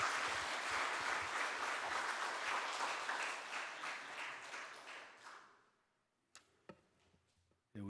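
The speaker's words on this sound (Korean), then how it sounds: "다시 한번 감사의 박수하겠습니다" A church congregation at a Sunday afternoon praise service applauding, a dense roomful of clapping for about five seconds that fades to silence, followed by a few scattered clicks and knocks.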